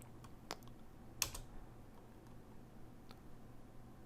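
A computer keyboard is tapped in a few scattered, quiet keystrokes while a command is typed, with one sharper click among them over a faint background hum.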